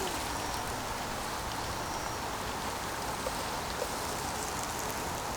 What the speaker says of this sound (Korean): 비가 오는 날이었다.